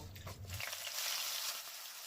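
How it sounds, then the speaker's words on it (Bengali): A fish rubbed with salt and turmeric goes into hot oil, starting a steady, bright sizzle that swells and holds after a brief low thump at the start. "তেল গরম করে নিয়েছি, এবারে নুন হলুদ মাখানো মাছটা আমি ভাজতে দেব।"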